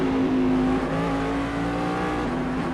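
IER Daytona Prototype race car engine in Assetto Corsa at Road Atlanta, a loud steady high-revving drone with sliding pitch as gears and throttle change, close and continuous throughout.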